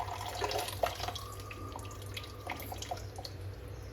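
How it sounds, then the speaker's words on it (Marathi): Steady running water from a kitchen tap that won't close, a continuous hiss with small splashes and drips, close by and unbroken throughout. "पाण्याचं काय करायचं काय माहिती, बंदच होत नाही कॉक."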